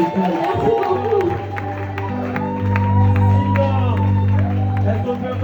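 Audience at an acoustic concert clapping and cheering with scattered shouts, while sustained music tones play, near and fairly loud.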